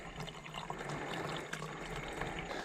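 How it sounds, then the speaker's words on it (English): Cold water runs into a one-liter bottle outdoors on a state park trail, a steady close splashing stream with bubbling gurgles throughout, fairly quiet and without speech. "There we go, fresh liter of water."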